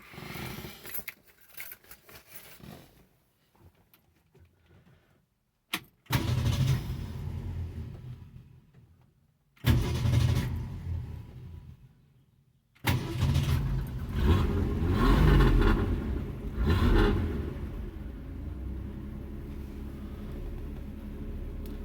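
A 1966 Ford Mustang's engine is cranked and started: faint clicks and a brief quiet stretch, then a couple of loud cranking bursts before it catches and settles into a steady, rumbling idle close by.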